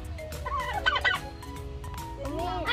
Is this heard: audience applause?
no